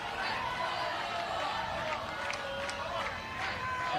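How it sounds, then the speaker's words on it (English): Steady murmur of a large crowd filling a San Bernardino stadium at a Little League baseball regional championship game, continuous and even, with a commentator talking over it. "We've got ourselves probably the biggest crowd we've had all week here"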